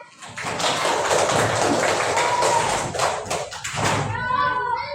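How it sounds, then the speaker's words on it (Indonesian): Children clapping their hands in a primary school classroom, a dense burst of many close claps lasting several seconds, followed by a voice and an adult speaking. "Coba tepuk tangan dulu."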